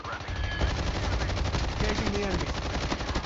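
Rapid automatic gunfire from a Call of Duty Mobile battle royale match, dense and continuous bursts of shots filling the clip at close range, with faint voice chat underneath.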